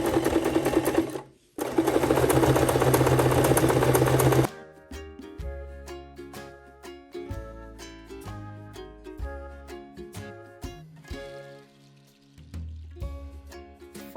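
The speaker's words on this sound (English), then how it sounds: "Pin it together and start sewing the body parts into the middle part." Sewing machine stitching scrap-fabric baguette bag body parts, starting with fast continuous stitching runs, then shifting to short bursts and individual clattering stitches with pauses between, close and clear.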